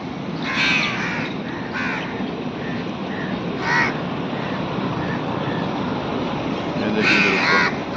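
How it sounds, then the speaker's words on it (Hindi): Several crows caw in short bursts at a moderate distance while feeding on a salty snack in a park, harsh calls repeating over a steady outdoor rush of background noise. "ये देखिए नमकीन को कितने कौवे मजे ले ले खा रहे हैं"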